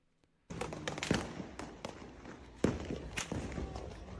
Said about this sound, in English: Firecrackers! Fireworks! It's fireworks.